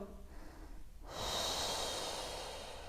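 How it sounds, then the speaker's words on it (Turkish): A pregnant woman doing wall pilates takes a loud, close breath in through the nose, a long airy rush that starts about a third of the way in after quieter breathing. "Nefes alıyorum"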